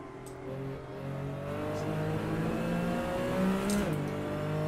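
Race car engine in Assetto Corsa droning steadily at high revs with a gradually rising pitch, fairly faint and continuous, with no talking over it.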